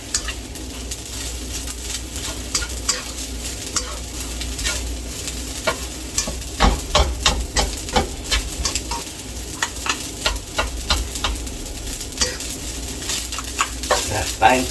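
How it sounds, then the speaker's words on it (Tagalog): Eggs sizzle steadily in a frying pan during a breakfast of fried rice and tocino, with sharp crackling pops and scraping stirs over a constant frying hiss, close and fairly loud, with no talk. "Ngayon, nagluluto siya naman ng itlog."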